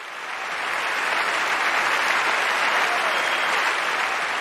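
Audience at Carnegie Hall breaks into sustained applause for a folk singer, a dense, steady wash of clapping that swells in quickly and holds loud throughout.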